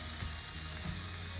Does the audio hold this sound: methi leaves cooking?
yes